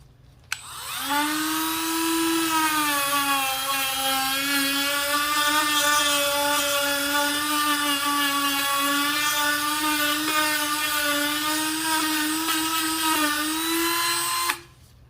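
A Dremel rotary tool with a 120-grit sanding drum whines high and steady for about fourteen seconds as it sands a surface, starting and stopping with sharp clicks.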